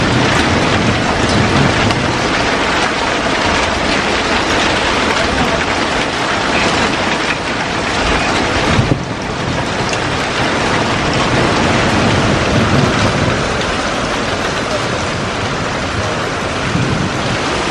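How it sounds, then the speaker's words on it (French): Heavy hail pelts down in a summer thunderstorm over a vegetable garden in central France, a dense, loud, continuous clatter and roar that barely changes throughout. "on a la grêle qui tombe à toute balzingue là"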